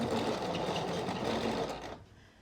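A sewing machine stitching a trouser waistband runs in one fast, continuous whirring burst for about two seconds, then stops abruptly.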